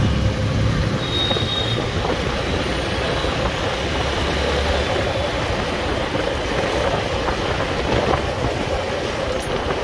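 A train rolls steadily past at close range, its heavy continuous rumble and rattling wagons filling the whole stretch at an even, loud level with faint wheel squeal, no voices.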